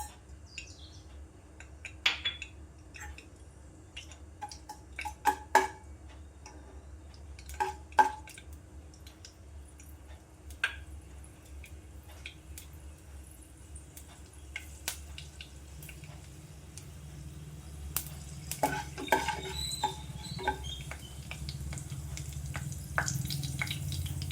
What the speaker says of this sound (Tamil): இப்போ எண்ணெய் சூடானதும் கடவுளுந்தம்பருப்பு போட்டுக்கலாம்